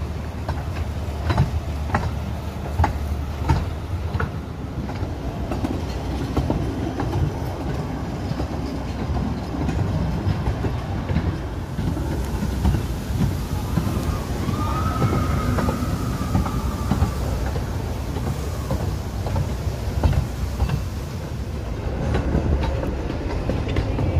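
A small amusement park train runs on its rails at Nickelodeon Land, Blackpool Pleasure Beach, with a steady rumble and rhythmic clickety-clack heard from on board, plus a brief squeal partway through.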